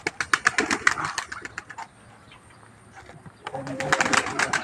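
Pigeons being released burst into a rapid clatter of flapping wings, fade into a short lull with a few faint flaps, then erupt again in loud wingbeats, all close by.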